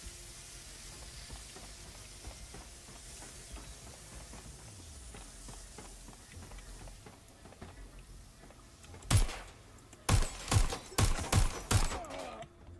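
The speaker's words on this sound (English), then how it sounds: "I feel like I'm getting shot at." Watch Dogs: Legion gameplay: quiet ambience gives way to several sharp bursts of gunfire in quick succession near the end, loud and close.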